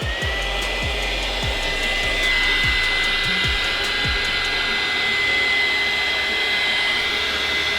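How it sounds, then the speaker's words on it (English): A heat gun blowing steadily over wet spray paint on a rolling tray, a loud, close, continuous whoosh with a high whine running through it for the whole stretch. "we're going to immediately hit it with the heat gun just to see what kind of different effect it does."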